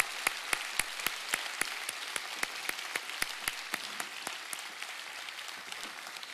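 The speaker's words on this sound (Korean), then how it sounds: "박수로 이 시간에 격려해 드리겠습니다" A church congregation applauds a visiting choir after its worship performance, a steady wash of clapping with many sharp individual claps standing out, sustained and moderately distant.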